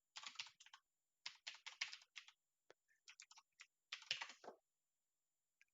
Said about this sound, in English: If I type this in